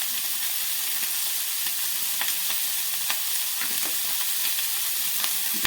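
Snail curry fries in a pan with a dense, steady hiss of sizzling oil, while a spoon stirs and taps in soft, scattered scrapes, up close with no voices.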